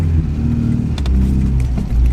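An old MGB GT's engine drones steadily while the car is driven, a loud low rumble with faint whirring on top and no voices over it.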